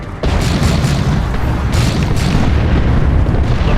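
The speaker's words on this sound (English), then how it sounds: "Artillery strike!" Artillery strike explosions boom in Dawn of War II, a loud, continuous barrage of heavy blasts that rumbles without pause after a sudden start.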